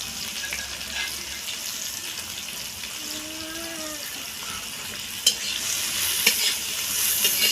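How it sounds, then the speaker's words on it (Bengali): Chopped onions frying in oil in a home kitchen pan, a steady close sizzle with brief stirring clinks and a few sharp knocks near the end, no voices. "পেঁয়াজটাকে লাল করে ভেজে নেবো।"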